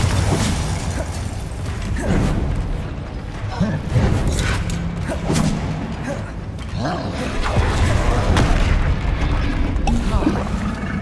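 Loud, chaotic Bombarda spell blasts in Hogwarts Legacy, with repeated booming bursts, crackling and creaking debris over dense combat noise lasting throughout, and a voice shouting amid the din.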